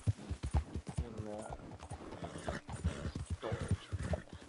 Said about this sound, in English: And I do have another horse